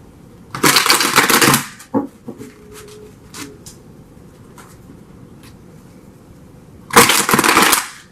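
Tarot cards are shuffled in two loud riffling bursts at the start and end, with scattered soft taps and card flicks in between.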